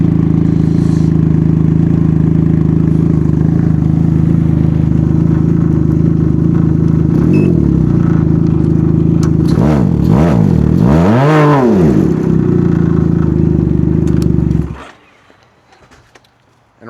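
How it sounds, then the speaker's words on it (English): A Can-Am Ryker three-wheeler fitted with an RLS Kaos exhaust, baffle installed, idles loudly and steadily, then is revved in several sharp rising and falling blips before the engine cuts off; no talking. "So now we're gonna check what the max is when I rev it with the baffle in it."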